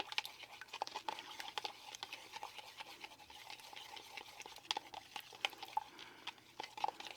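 Steady rapid scraping and clinking as a green tea skin smoothing gel is stirred in a small container, a continuous faint patter with no voices.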